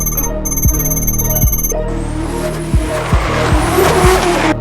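A car engine revs hard and repeatedly while tires squeal in a long drifting skid, loud and close.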